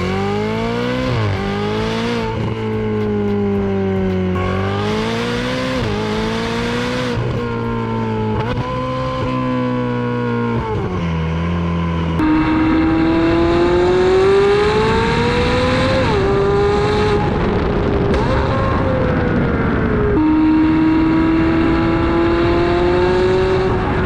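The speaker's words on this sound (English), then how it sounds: "after I put the exhaust on, I mean, it's definitely a lot louder. It sounds so much better." Turbocharged car fitted with an aftermarket exhaust revs repeatedly, its deep growling engine note rising and falling in sustained pulls, loud and close throughout.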